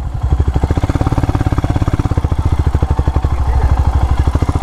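A motorcycle engine labours along a deep, muddy road in Sikkim, its close, loud exhaust beating in a steady, rapid throb that swells slightly as the rider pushes on.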